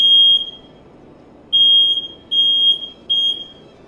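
A smoke detector beeps loudly nearby in four piercing high tones: one, a pause, then three more at a quicker steady pace, with no voices over them.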